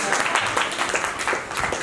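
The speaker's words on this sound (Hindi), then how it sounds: "तो एक बार आप बजा दो तालियां।" Audience members at an evening poetry recital at a college seminar clap in a short burst, a dense, fairly loud patter of hands, with some voices mixed in beneath it.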